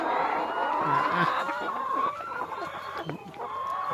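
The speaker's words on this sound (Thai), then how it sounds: "จำนวนไก่ไข่ ร้อยห้าสิบตัวนะครับพี่น้อง" Flock of about 150 laying hens that have just started to lay, clucking steadily in a chorus, with a louder call breaking through now and then and a few soft knocks in the background.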